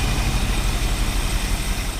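A 1964 Lincoln Continental V8 fitted with an Edelbrock 1406 carburetor idles low and steady, a deep rumbling throb that stays close and even throughout with no other sounds.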